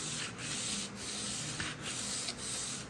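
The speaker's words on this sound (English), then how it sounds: "I'm gonna do the 400 and just lightly sand it" Poplar kitchen cabinet wood is lightly hand-sanded with 400 grit sandpaper in a quiet, rhythmic rubbing of about five back-and-forth strokes, close and soft.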